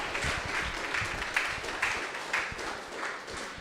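Audience applause at an exhibit opening, a short steady patter of many hands clapping indoors, moderately loud and continuous with no talk over it.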